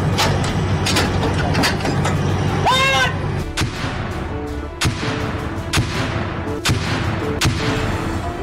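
A truck-mounted 155 mm, 52-calibre artillery gun fires repeatedly, each loud, sharp boom ringing out over a steady background rumble.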